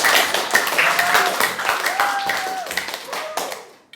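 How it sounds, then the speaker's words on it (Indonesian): A secondary school class in a classroom clapping hands together, a dense burst of applause with voices calling out over it, fading away near the end. "Beri tepuk tangan dulu buat kita semua."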